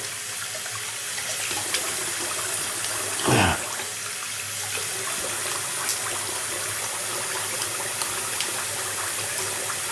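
Tap water runs steadily into a bathroom sink during a wet shave, a continuous loud hiss and splash close to the listener, with a brief gurgling surge partway through.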